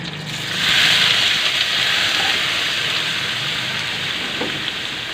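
Marinated pork innards for dinuguan sizzle and fry in a pan, a loud, steady hissing crackle that swells after the first second and holds without talk.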